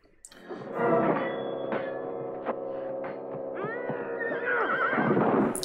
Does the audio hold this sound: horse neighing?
yes